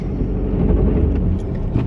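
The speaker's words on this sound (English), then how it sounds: "oh my car's making a weird noise, which isn't, isn't good" A car's steady low engine and road drone while driving, with a faint irregular noise showing through the rumble, loud and continuous with no talk.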